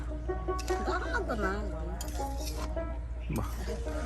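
A lid goes onto a cooking pot of turtle meat with a few light metallic clinks and scrapes, heard under continuous nearby conversation and a steady low hum.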